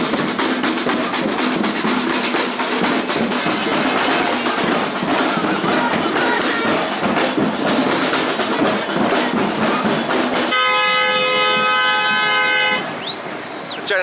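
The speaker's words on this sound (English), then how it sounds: "Gentleman's hooting his horn." At a street protest against a police bill in Brighton, a loud crowd roar fills the scene before a vehicle horn blasts in a long sustained hoot near the end, followed by a short second toot.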